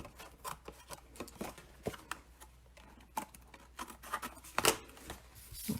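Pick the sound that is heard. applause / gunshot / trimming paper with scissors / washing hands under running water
trimming paper with scissors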